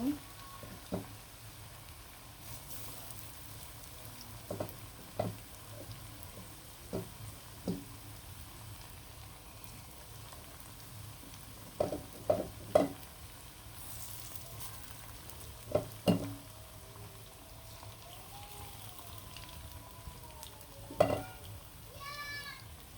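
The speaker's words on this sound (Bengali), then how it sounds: "খুব সুন্দর করে কিন্তু মাংসগুলো ভেজে নেব" Small chicken pieces fry quietly in a pan, a soft steady sizzle broken by scattered clinks and scrapes of stirring.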